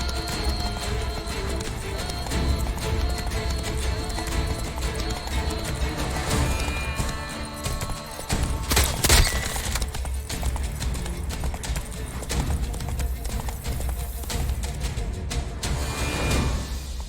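Horse galloping in the video game The Witcher 3: Wild Hunt during a race, a continuous rapid drumming of hooves over loud game music and ambience, with a brief crash midway.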